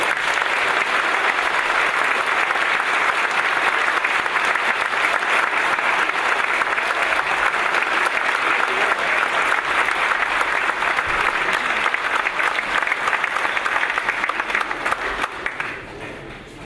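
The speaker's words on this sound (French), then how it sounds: "Je vous demande de l'applaudir une nouvelle fois." A large rally crowd in Lille applauds Marine Le Pen during a European election campaign, with long, dense, steady clapping that holds for most of the time before fading toward the end.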